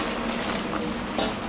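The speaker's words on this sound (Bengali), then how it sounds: "এটা ফুটে গেছে, এখন আমি মাছটা দিয়ে দেব।" Hilsa fish goes into a pan of boiling poppy-seed gravy, a dense, steady bubbling sizzle close by with a brief splash-like burst partway through.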